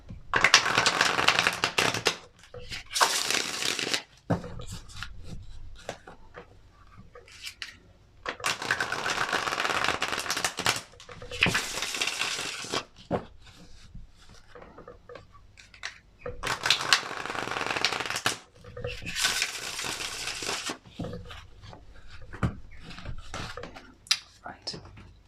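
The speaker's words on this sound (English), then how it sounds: "Give these another really good shuffle." Tarot cards shuffled in several bursts of crisp riffling, separated by quieter pauses, close and fairly soft.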